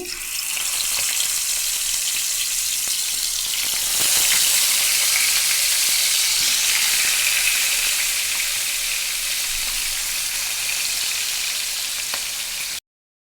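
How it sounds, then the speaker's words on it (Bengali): Small local puti fish fry in a pan with a dense, continuous sizzle that holds loud and close for several seconds before cutting off abruptly. "মাছ ভেজে নিচ্ছি"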